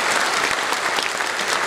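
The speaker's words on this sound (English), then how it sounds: "A big round of applause for them." Enthusiastic applause from a concert audience for Indian Navy band musicians, dense, loud clapping that stays steady for nearly two seconds.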